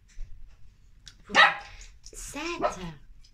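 A dog barks close by in two short, sharp bursts with a brief whimpering yip between them, against a quiet indoor background.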